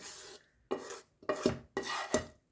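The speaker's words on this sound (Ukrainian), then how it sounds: "І все гарненько перемішаю." Someone stirs a potato and fried onion filling for fried pies, seasoned with black pepper and salt, in a bowl. Four short rasping, scraping strokes sound close by, with brief pauses between them and no talking.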